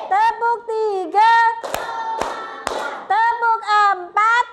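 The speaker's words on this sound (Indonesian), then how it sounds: "Tepuk 1, tepuk 2, tepuk 3," Children in a third-grade classroom clap hands in a counting clap game, sharp claps landing between bursts of sung or chanted voices, close and lively.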